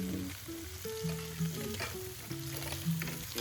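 Onions sizzle and fry in hot oil in a pan, a steady crackling hiss with stirring scrapes, and no one speaks over it.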